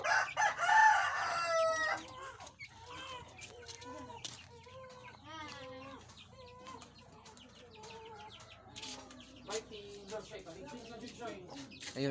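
A rooster crows loudly at the start, followed by a run of clucks and chicken calls from a chicken with a cold.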